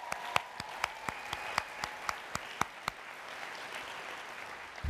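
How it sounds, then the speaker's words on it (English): An audience at a Relay for Life summit claps, starting with distinct, evenly spaced single claps that build into a dense wash of applause, heard from within the room. "Relay for Life, please, give me a clap."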